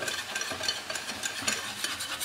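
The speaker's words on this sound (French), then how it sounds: "le fait de mélanger l'ensemble, ça va hacher un petit peu les oignons" Onions being mixed into aurore sauce, producing a continuous wet swishing and slopping of stirring with rhythmic bursts of thick liquid churning in the pan, close and steady with no voices.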